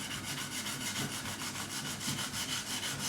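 Fine 1500-grit sandpaper rubbed along the beveled fret edges of a Music Man Silhouette bass during a refret, a steady close scratchy rasp in repeated back-and-forth strokes with no talking.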